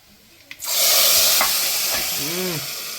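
A sudden loud sizzle bursts up as tempering spices hit hot oil for dal with raw mango, hissing steadily and easing off slightly, with a faint clink and a short voice near the end.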